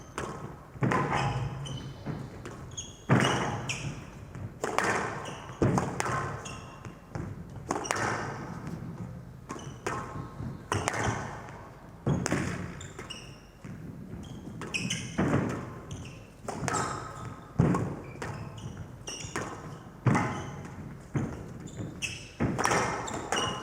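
Squash ball in a professional rally between Farag and Mueller, a steady run of sharp thuds and smacks off racket and walls, moderately loud, ending in a forehand nick winner, with crowd and commentary noise between shots.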